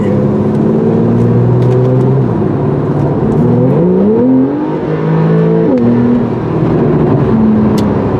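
A Porsche Carrera 4S drives on a wet race track, its engine loud and continuous from inside the car, with rising revs, gear changes and a steady drone under road noise.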